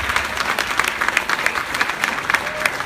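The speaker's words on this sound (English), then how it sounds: "Please give a round of applause to all the parents" An audience at a family ceremony claps steadily for the parents, a close, even patter of many hands throughout.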